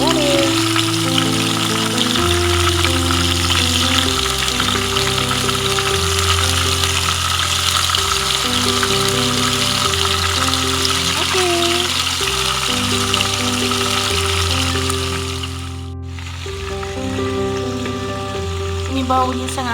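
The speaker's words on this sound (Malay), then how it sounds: "Masukkan ke semua ayam-ayam kita tadi dulu. Lalu kita goreng sehingga ia kekuningan." Marinated chicken pieces frying in hot oil for nasi lemak ayam berempah, a continuous close sizzle and crackle that runs throughout beneath steady background music.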